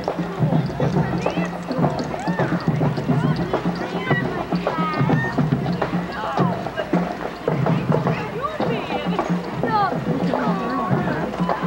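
A horse's hooves clip-clop steadily in a walking rhythm at a fall festival parade while several people talk over them.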